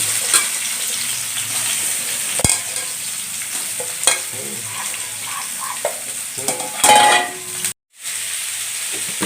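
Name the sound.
frying in a pan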